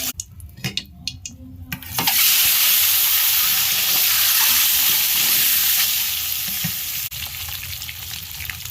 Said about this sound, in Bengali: এখন তেল দেব, ডিমে হলুদ এবং লবণ লাগানো আছে। ডিমটা এখন দিয়ে দেবো।